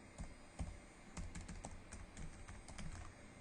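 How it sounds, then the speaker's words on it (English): Rapid typing on a computer keyboard, a steady run of light clicking keystrokes with no talking, fairly quiet and close. "Okay, I'm going to type in"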